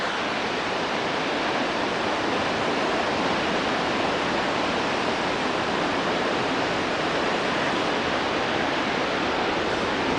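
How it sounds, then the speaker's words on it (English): Waterfall in full flow after heavy rain, a dense, unbroken roar of rushing water that stays loud and constant throughout, with no voices. "Let's look at this waterfall some more."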